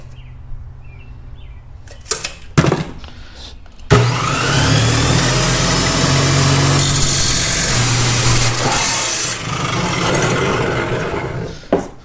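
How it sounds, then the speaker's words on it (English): A small, worn Dremel rotary tool bit cuts through turbo piping during a Toyota Supra turbo setup. The grinding rasp runs loud and steady for about eight seconds after a few short clicks and knocks. "this is just a small little Dremel bit"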